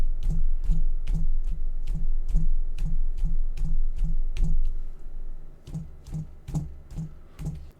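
Rapid knocking on a desk picked up by a close microphone with its low-cut filter switched off: around twenty quick thuds with a heavy low-end boom, slowing and spreading out after a brief pause midway.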